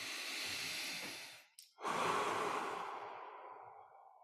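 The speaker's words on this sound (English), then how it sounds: "If we could just gently breathe in" A person draws in a long, soft, airy breath close by, pauses briefly, then takes another slow, gentle breath that fades out, all in a quiet setting.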